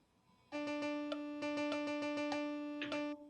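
A single sustained, slightly reedy electronic tone plays a rhythm exercise with tied notes, a steady pulse of repeated attacks on one pitch with some notes held longer, quiet and alone.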